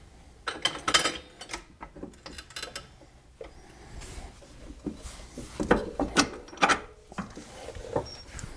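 Mechanical clunks, scrapes and metallic taps from jacking up a Pontiac GXP during a Megan Racing coilover install, irregular close-up knocks and rubbing with busier bursts near the start and end, no talking.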